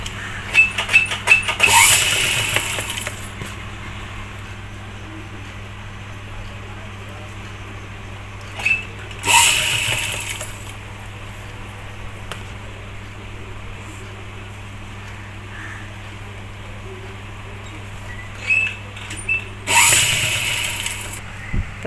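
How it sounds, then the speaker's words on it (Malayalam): A sewing machine stitching around the edge of a skirt or top garment piece, running in three short bursts separated by long quiet stretches with a low steady hum underneath. "ഇതുപോലെ വെച്ചിട്ട് നമ്മൾ ചുറ്റുഭാഗം സ്റ്റിച്ച് ചെയ്ത് കൊടുക്കുന്നതാണ് കേട്ടോ"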